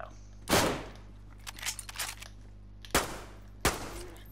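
Gunshots in the survival game DayZ: a sharp report near the start, then two more spaced cracks toward the end, with faint bumps and clatter in between.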